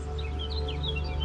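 Bird calls from a sound sample library, several chirps and short tweets chattering over a steady low hum, moderately loud and continuous throughout.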